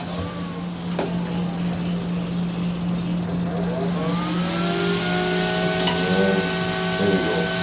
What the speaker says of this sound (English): let me get my extractor fan on